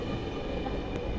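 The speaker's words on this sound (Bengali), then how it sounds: "ওই যে ট্রেন চলে আসছে" A Dhaka metro rail train, near Mirpur 10, pulling into a station gives a faint, steady rumble and whir of rolling wheels that carries on without a break.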